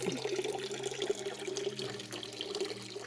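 Spring water pours from a natural forest fountain, a close, steady splashing stream with gurgling and bubbling that carries on without a break.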